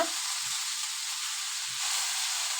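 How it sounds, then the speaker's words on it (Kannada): Kalmi greens with raw ginger garlic paste fry in hot oil, giving a steady, bright sizzle throughout, broken by two soft knocks of stirring. "ಹಸಿ ವಾಸನೆ ಹೋಗೋವರೆಗೂ ಚೆನ್ನಾಗಿ ಈ ಥರ ಫ್ರೈ ಮಾಡ್ಕೊಬೇಕು ಎಣ್ಣೆಯಲ್ಲಿ"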